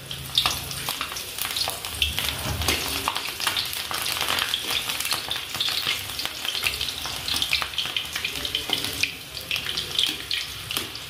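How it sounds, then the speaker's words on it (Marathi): Halved green chillies frying in hot oil for bhaji, a loud, dense bubbling sizzle that crackles continuously and close up throughout, with no talking. "आता ह्या मिरच्या तेलात टाकून तळून घ्यायच्या आहे"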